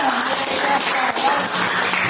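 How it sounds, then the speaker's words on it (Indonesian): Classroom of children applauding during a religious education lesson, a continuous brisk patter of many small hands clapping at steady volume. "Oke, tepuk tangan."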